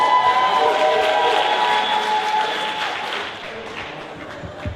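Applause from a gathered audience at a healing event, a steady wash of clapping that slowly fades and thins toward the end.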